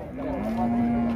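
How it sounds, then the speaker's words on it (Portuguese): A cow gives a long, loud, sustained moo close by at a cattle fair in Águas Belas, Pernambuco, with a crowd murmuring in the background. "tem uma vaca aqui no preço"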